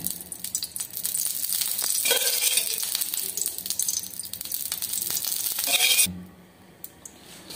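Rice flour roti cooking in ghee on a hot tawa, a dense crackling sizzle that holds steady for several seconds with small clicks, then drops abruptly to a quiet hiss.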